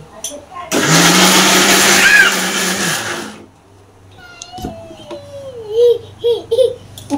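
A mixer grinder whirs loudly for about three seconds while grinding green chilli chutney, then stops, followed by a voice and a cat's meows.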